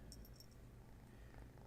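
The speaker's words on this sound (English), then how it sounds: "My cat right by the microphone fucking purring." A house cat purring right beside the microphone, a low steady rumbling purr that continues throughout at a quiet level with no talking.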